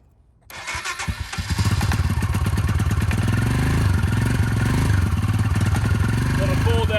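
Harley-Davidson and Royal Enfield motorcycles crank and fire up after a brief quiet start, settling into a loud, steady idle with a thumping, uneven rhythm close by.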